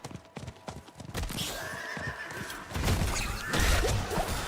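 A horse in the video game Diablo 4 gallops with quick clip-clop hoofbeats, then lets out a loud, drawn-out neigh that rises over a busy game soundscape.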